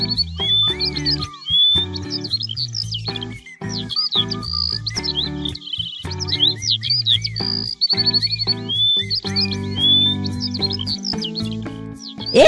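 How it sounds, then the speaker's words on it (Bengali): Cartoon morning birdsong, bright rapid chirps and tweets repeating close and loud over a soft musical backing. "এই সকালবেলায় পাখির কিচিরমিচির শব্দ শুনে আমার ঘুমটাই ভেঙে গেল।"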